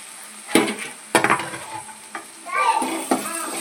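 Beetroot pieces stirred through hot oil in a pan as they fry, giving short scraping bursts of stirring over a soft sizzle, close and moderately loud.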